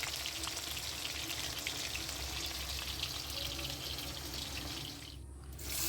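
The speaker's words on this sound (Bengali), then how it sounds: "ইলিশ মাছ খুব বেশি ভাজার দরকার নেই, দুদিকে হালকাভাবে, 2 পিঠ হালকাভাবে ভাজলেই হবে।" Hilsa fish pieces fry in oil in a pan with a steady, dense crackling sizzle that runs close and continuous, easing briefly near the end before resuming.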